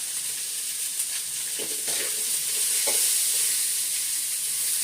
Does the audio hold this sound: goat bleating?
no